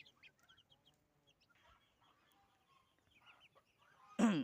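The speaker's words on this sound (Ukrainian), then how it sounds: "Індики хочуть мене покусати" Faint turkey clucks and calls sound sparsely at first, then one loud, close turkey call bursts out at the end.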